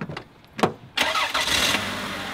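A Toyota Camry with a broken drive shaft cranks briefly and catches, then settles into a steady, close idle that runs loud and alone to the end.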